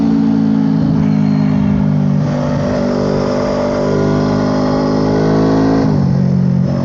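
A Suzuki Inazuma 250 motorcycle engine drones steadily while riding, its pitch climbing under acceleration, briefly dipping, then rising again, loud and close with road and wind noise.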